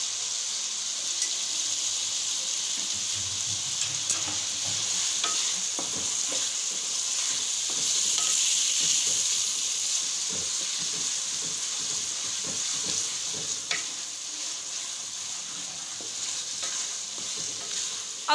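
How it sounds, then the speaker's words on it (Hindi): Tomatoes frying in a pan with ginger garlic paste for a spicy potato and meat curry, a constant close sizzle with scattered stirring scrapes and clinks throughout. "अब आपने टमाटरों को अच्छी तरह से भून लेना है"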